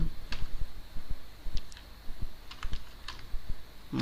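Fingers type on a computer keyboard, irregular bursts of quick close key clicks with brief pauses between, no voices.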